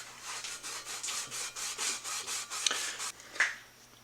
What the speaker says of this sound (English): Just using a bit of Scotch-Brite to clean them up.